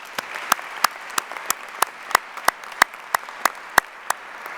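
Scattered claps ring out at a commencement ceremony, with a few distinct hand claps in a slow, fairly even rhythm rather than a full ovation.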